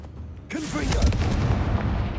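A Confringo spell blast in the video game Hogwarts Legacy bursts out suddenly as a loud, booming explosive hit, then rumbles on briefly in a busy game soundscape.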